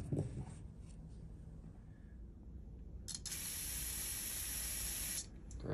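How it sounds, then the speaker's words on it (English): Carb cleaner sprays from a can into a Honda outboard carburetor and its bowl, first as a softer hiss and then as a loud, steady, bright jet that holds for about two seconds before cutting off. "You need to spray out the carb pretty good with the carb cleaner down in there and the bowl itself"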